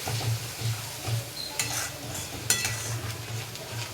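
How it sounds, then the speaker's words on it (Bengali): Ginger, chilli, garlic and tomato paste fry in a pan while being stirred, giving a constant sizzle broken by the scrapes and knocks of the spoon against the pan. "এটাকে এবার ভালো করে কষবো, মশলাটা দিয়ে যেন কাঁচা গন্ধ না ছাড়ে"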